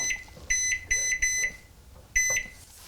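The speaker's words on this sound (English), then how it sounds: "I'm going to set my kitchen timer for half an hour." A kitchen timer beeps as it is set: several short, bright electronic beeps in uneven bursts, close and clear, with a pause before a final beep.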